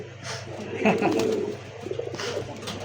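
Satin giribaz pigeon cooing close by in two short bursts, with a background hum and some voices talking at a market or loft.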